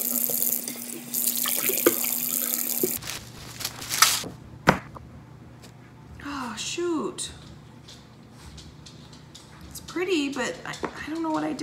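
Water runs steadily from a tap for a few seconds before cutting off, followed by clinks and handling noises, with someone talking nearby as clothes are put in to wash.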